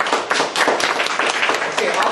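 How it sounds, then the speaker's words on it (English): Applause from an audience gathered for an MBA information session, a dense steady patter of many hands clapping close by and filling the whole moment with no break. "Can you all give a round of applause before we start?"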